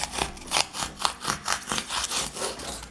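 A serrated blade sawing through foam to bevel a model railroad coal load, a rapid run of rasping back-and-forth strokes, close and steady throughout.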